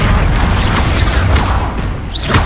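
A spell explosion in the Hogwarts Legacy video game lands as a loud, dense boom amid continuous busy combat noise, with a brief whooshing burst near the end.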